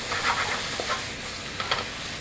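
Onions stir-frying in a pan for curry gochujang give a steady, close sizzle and hiss, with a few soft scrapes of stirring standing out.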